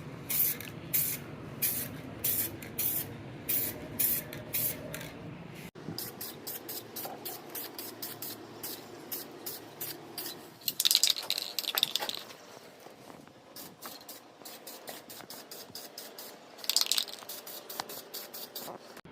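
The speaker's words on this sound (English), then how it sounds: "I want to make sure that I'm not spraying it too fast" Rapid, rhythmic hissing bursts from a spray can coat a BMW E30 M3 DTM wing outdoors in the heat, the puffs close by and evenly paced, with a few longer sprays in between.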